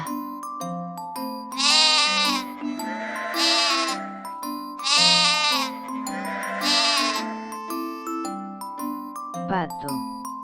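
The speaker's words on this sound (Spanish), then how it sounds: "Oveja." Sheep bleat four times in loud, wavering cries, paired in two bursts over a light children's melody, followed by a short sliding sound at the end.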